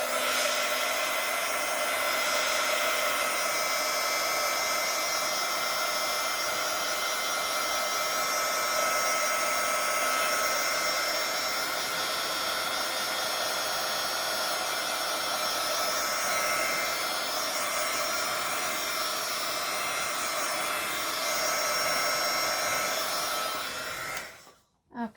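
Close, steady whir of a hair dryer blowing over a paper junk journal page, running continuously at an even loud level before switching off abruptly at the end.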